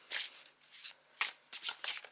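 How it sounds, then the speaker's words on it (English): A tarot card deck is shuffled by hand in several quick, crisp riffling bursts with short pauses between them, close and fairly quiet. "whilst I shuffle my deck"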